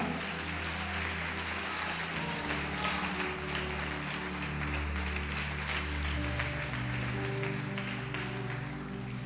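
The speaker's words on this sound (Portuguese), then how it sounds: "pode aplaudir o Senhor e glorificar." A church congregation applauds during a large worship gathering, dense sustained clapping with organ or keyboard chords and a low bass pad droning underneath, steady and full for the whole stretch.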